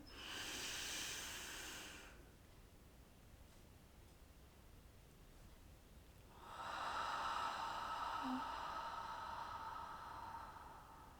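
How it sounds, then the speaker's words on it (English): Slow, deep breaths through the nose during a quiet mindfulness exercise: a long soft airy inhale, a pause, then another breathy rush, faint and close with no talk. "take that deep breath in through our noses."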